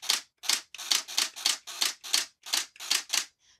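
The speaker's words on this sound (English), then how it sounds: "So I'm typing out some letters in ABC order" A Barbie electronic typewriter types the alphabet in order: about ten sharp, evenly spaced key strikes, close and crisp, followed by a faint final tick, with no voices.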